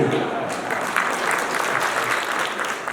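Sustained audience applause fills a hall at the Uganda Tourism Trade and Investment Forum in Dubai, dense steady clapping from a large crowd lasting throughout.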